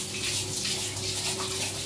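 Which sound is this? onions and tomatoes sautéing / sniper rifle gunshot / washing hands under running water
washing hands under running water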